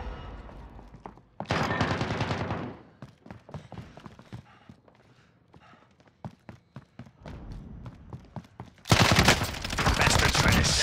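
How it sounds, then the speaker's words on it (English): Gunfire in Call of Duty: Modern Warfare Warzone: a loud burst, then scattered sharp shots and clicks, ending in a sustained roar of rapid fire. Speech is faint or absent. "Bastard's trying to shoot me."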